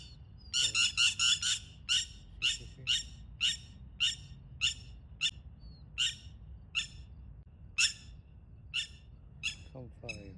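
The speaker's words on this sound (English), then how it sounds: "There's another bird tweeting up there." A bird chirps outdoors in a steady series of sharp, bright calls, roughly one per second, fairly close and clear over a low background rumble, with a brief thump near the end.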